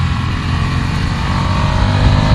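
A Ducati Scrambler Desert Sled engine runs hard and close, a continuous loud buzzing drone with slight rising revs and no clear break, the quickshifter gear change blending into the steady engine note.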